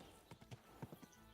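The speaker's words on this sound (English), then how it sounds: "Excuse me, sir. Try not to hit you with my horse." Hooves of a horse clip-clop in the medieval game Kingdom Come 2, several soft, uneven steps at a walking pace, fairly faint, ending in a sudden louder thump.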